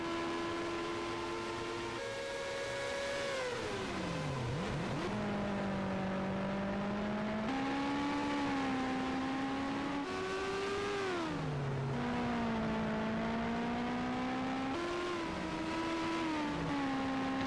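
Race cars battling for position on a Toronto street circuit: a steady, droning engine note that rises and falls as the cars shift gears, heard from a distance without talking.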